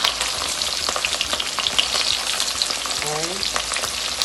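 Fish for escovitch sizzling in a pan of hot oil, a loud, dense, continuous crackle with a short word spoken over it.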